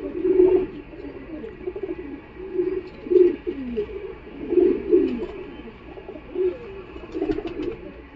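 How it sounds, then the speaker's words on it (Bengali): A khoten pigeon with clipped wings coos repeatedly at close range, soft throaty rolls recurring every second or so with short gaps, several louder phrases standing out among quieter murmuring. "এটা একটা খতেন পায়রা আছে, ডানাগুলো কাটাই রয়েছে"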